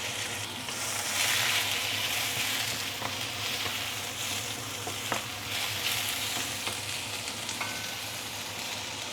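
Vegetables sizzle loudly in a pan with browned ginger and garlic, a dense continuous frying hiss broken by occasional clicks and scrapes of stirring, with no voices.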